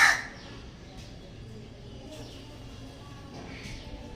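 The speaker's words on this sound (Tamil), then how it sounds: "எங்கள் வீட்டாண்ட வந்து ஒரு காக்கா வந்து கத்திட்டே இருக்குது" A crow caws near a house, giving a few separate, moderately distant calls spaced a second or so apart over a quiet background.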